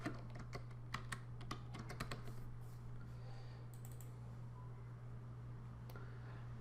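Rapid clicks of typing on a computer keyboard, close and fairly quiet, arriving in quick bursts before thinning to a few isolated keystrokes over a low steady hum.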